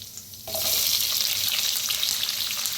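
Chopped onion drops into a hot pan with lentils and peanuts, setting off a sudden loud burst of sizzling that stays thick and steady, close up, after a quieter moment at the start.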